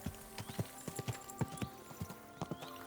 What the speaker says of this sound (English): Looks like a bloody expensive horse